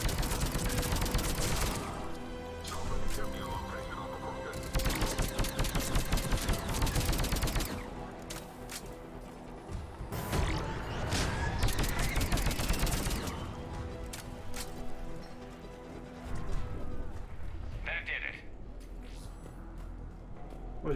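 Sci-fi weapon fire in Mass Effect 3 combat: dense bursts of rapid gunshots and automatic fire in clusters, loud and close, with brief lulls, scattered single shots and mechanical clicks between volleys.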